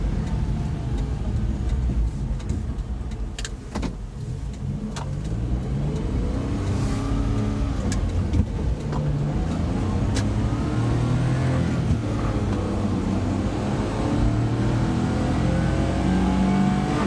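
A non-turbo Suzuki Carry mini truck drones under full throttle in fifth gear on a highway into a headwind, its small engine straining steadily with wind rush and road noise.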